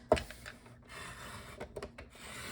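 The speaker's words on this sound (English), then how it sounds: "and I'm cutting 1-inch pieces. So I'm going to use the other side of my trimmer" A paper trimmer slices through a sheet to make 1-inch pieces, with one sharp cut at the start followed by quieter sliding and handling of the paper, close by and without talking.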